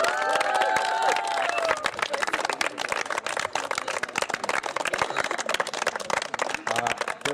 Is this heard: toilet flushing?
no